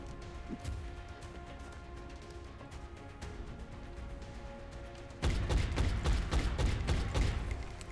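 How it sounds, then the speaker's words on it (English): Reaction gunfire from a heavy soldier in XCOM: Enemy Within, starting as a sudden loud burst of shots after several seconds of quieter game ambience and continuing as a dense volley to the end. "One of the Exalt operatives moves down, eating a reaction shot from one of our heavies."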